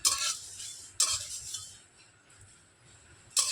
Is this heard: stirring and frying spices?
yes